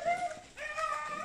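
Dogs in a residential subdivision in Koronadal City whimper and yip faintly in the distance, a brief thin whine that rises and falls.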